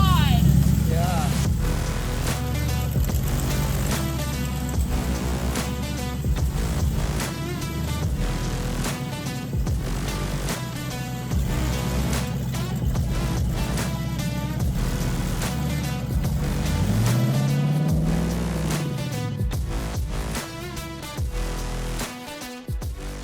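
Modified Jeep engine with open headers revving hard, a loud, continuous raw roar that fills the whole stretch, with a brief voice exclaiming near the end.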